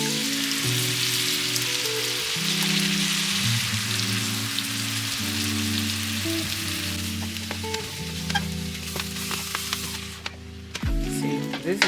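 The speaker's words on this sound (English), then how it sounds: "Alright, so now we're gonna go in with this tomato sauce" Tomato sauce poured into a pan of cooked, greasy ground meat for spaghetti sauce, with a steady close sizzle and crackle and a few stirring clicks near the end.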